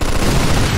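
A burst of gunfire in the Mafia 2 Director's Cut game on PC, loud and dense, with a heavy low rumble filling the whole short moment and no clear gap between shots.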